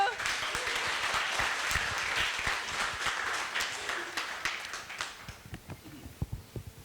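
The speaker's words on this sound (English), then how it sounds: "please give an applause to yourself for being here today" Audience applause at a business seminar, a dense wash of clapping that holds steady for several seconds and then thins out into scattered claps near the end.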